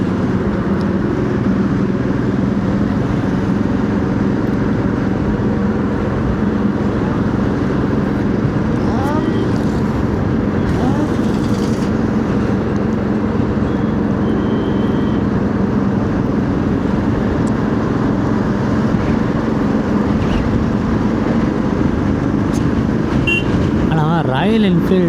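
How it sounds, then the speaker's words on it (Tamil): A Royal Enfield motorcycle rides steadily, its engine a continuous loud drone with passing wind rumble throughout, and a voice talks over it for much of the ride. "அப்படியே இந்த பைக் சவுண்டு இதெல்லாம் அப்படியே போயிட்டே இருக்கும்."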